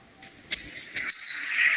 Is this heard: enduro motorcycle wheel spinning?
no